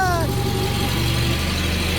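A Farmall Super A tractor engine catches and settles into a steady, low idling chug, close by and running continuously, with a rising tone at the start and a voice speaking over it.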